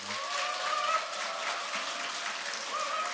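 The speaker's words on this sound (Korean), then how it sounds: "우리 뜨거운 박수로 목사님 환영하겠습니다." Warm applause from a church congregation welcoming a pastor at an installation service, a dense, even wash of many hands clapping that holds steady throughout, with no talk over it.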